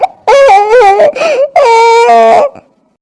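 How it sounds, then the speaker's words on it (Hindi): A woman wails and sobs loudly at close range in two long, drawn-out crying bursts with a short gasp between, then falls silent. "आपके कंधे से बहुत जोर से रोने की आवाज आई।"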